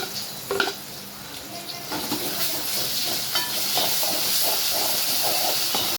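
Onions, curry leaves and ginger garlic paste sauté in hot oil for a goat intestine curry, a broad steamy hiss that swells and stays strong after a few early clinks, then cuts off abruptly.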